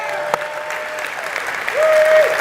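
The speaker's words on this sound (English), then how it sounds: "give him a hand of applause" Applause for a podcast guest in a studio setting, a short burst of clapping with a faint crowd texture, loud and close, over a background tone.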